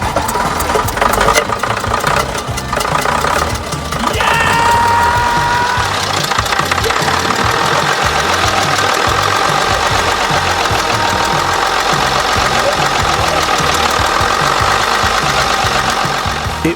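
A Routemaster double-decker bus, RM843, runs after a restart, its diesel engine knocking in a loud, steady, even rhythm throughout.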